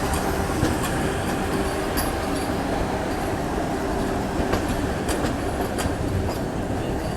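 Secunderabad–Nagpur Vande Bharat express train rushing past, a steady loud roar of wheels and wind with faint rhythmic clacking running throughout, no voices.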